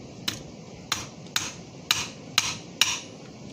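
A hammer taps a stud down into place during a minor repair on a Lionel #6110 model locomotive: six sharp, close metallic knocks spaced roughly half a second apart over quiet background.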